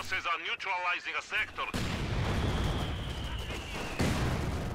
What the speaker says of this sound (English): Double mortars here from Refero